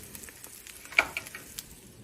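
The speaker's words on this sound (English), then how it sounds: "Frying up an egg real quick." An egg frying in a pan, giving a faint, steady sizzle with a few soft crackles and one sharper pop near the middle, heard quietly on its own.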